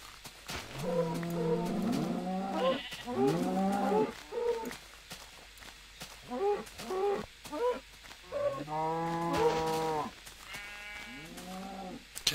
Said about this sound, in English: hear more mooing. There's a couple of cows there.